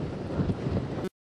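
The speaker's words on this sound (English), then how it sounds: "these gusts that are kind of battering us now" Strong wind gusts batter a microphone on Lighthouse Beach in Chatham. A loud, rough roar fills about a second, then cuts off abruptly.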